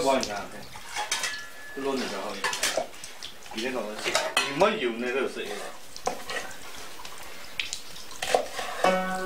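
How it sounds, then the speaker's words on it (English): Pots, dishes and cutlery clattering in a simple, century-old Chinese family kitchen with wood-burning stoves, where meat and vegetable dishes are being prepared; irregular close knocks, clinks and scrapes run throughout, with voices heard now and then. "the family working together preparing the day's meals of basic meat and vegetable dishes in a very simple but functional kitchen"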